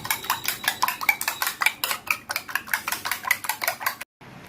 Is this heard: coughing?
no